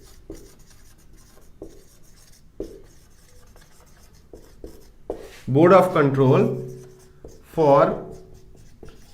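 Chalk or marker strokes on a board tap and scrape in short, regular bursts, close and fairly soft, as someone speaks Hindi in between.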